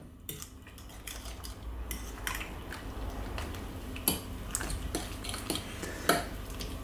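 A spoon scrapes and clinks against a bowl while eggs are mixed with vegetables, olives and parmesan for a baked dish, with steady moderate stirring and occasional sharper taps.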